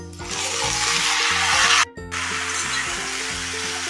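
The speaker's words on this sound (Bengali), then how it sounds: "এবার এর মধ্যে কেটে রাখা ঝিঙেটা দিয়ে দিচ্ছি।" Chopped ridge gourd drops into a pan of lightly fried onions, setting off a steady, close sizzle that breaks off for a split second and then resumes, hissing on over faint stirring sounds.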